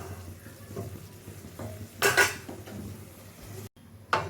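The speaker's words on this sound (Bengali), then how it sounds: "দিয়ে দিয়েছি ভুট্টার দানাগুলো" Boiled corn kernels tipped into a pan of spiced potatoes, giving a brief clatter and rattle of kernels and a spoon against metal, with a faint sizzle and scattered stirring taps around it.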